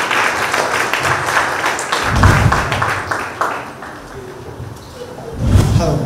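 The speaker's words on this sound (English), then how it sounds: "please welcome with a round of applause" Audience applause at a Christmas carols concert by a music academy, loud clapping that swells and fades with a few low thumps as performers move into place.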